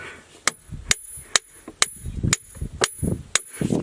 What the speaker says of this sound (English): your anvil sitting in mercury while you're working, to deaden that sound